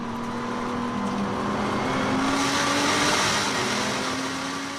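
Nissan GT-R and Corvette race cars at the Nürburgring 24 Hours, engines droning steadily at high speed, a sustained roar that swells slightly as they pass, with no talk.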